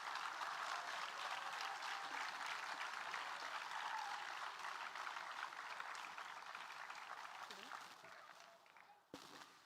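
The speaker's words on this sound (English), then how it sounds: "Ladies and gentlemen, please give them a round of applause." An audience at a school event applauds in a steady, dense burst of clapping that carries on for several seconds before thinning out near the end.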